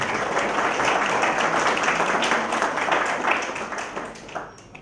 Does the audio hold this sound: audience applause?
yes